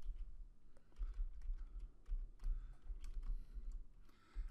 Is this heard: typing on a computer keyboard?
yes